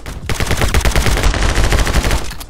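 Rapid automatic gunfire from the side-scrolling shooter game My Friend Pedro, a dense, loud, continuous burst of closely spaced shots lasting throughout, with no talking over it.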